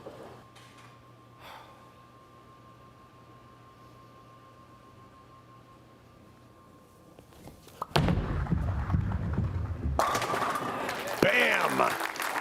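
At a PBA playoff match, a bowling ball crashes loudly into the pins after a quiet lead-in, with the six-pin flying across to take out the 10-pin, followed by a second burst of pin clatter and crowd noise.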